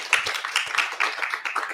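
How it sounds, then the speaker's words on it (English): An audience at an author event bursts into applause, a dense, steady patter of many hands clapping that stays even throughout the short burst. "I feel like that deserves a round of applause"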